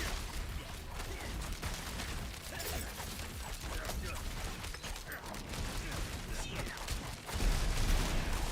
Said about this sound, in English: The explosions are nice.